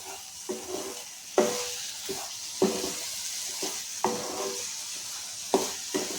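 Ash gourd halwa with fried cashews is stirred in a pan, a soft sizzle broken by a spatula scrape roughly every second and a half, close and steady with no voices.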